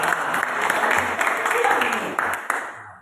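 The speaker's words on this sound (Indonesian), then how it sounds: "Tepuk tangan dulu ya" Students clap together in a junior high school classroom during a lesson, a short burst of lively applause lasting about three seconds with a teacher's voice briefly mixed in.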